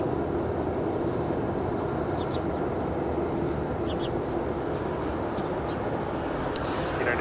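An MD-10-30 jet taking off at LAX, a loud, continuous broadband engine roar that stays steady and close throughout, with faint higher chirps above it.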